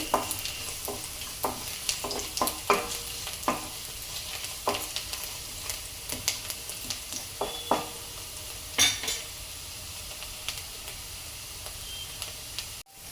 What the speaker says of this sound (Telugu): ఇలా ఫ్రై చేసుకోవాలండి. ఇవన్నీ బాగా బ్రౌన్ కలర్లో రావాలి